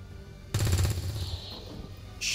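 Gunfire in XCOM 2: War of the Chosen, a loud burst of rapid automatic shots followed by a fading tail of echo and effects, with no talk over it.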